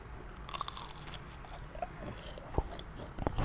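Crisp crunches of someone biting into chicken nuggets reheated in an air fryer, close and quiet with several sharp bites and chewing over a soft background hiss.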